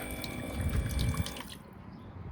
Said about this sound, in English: Water comes out.